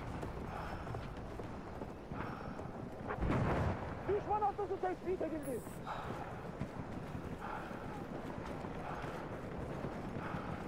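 Horse hooves gallop in Battlefield 1, a World War I shooter, with a run of rhythmic thuds in the middle of the clip, partly masked by game noise, music and a voice.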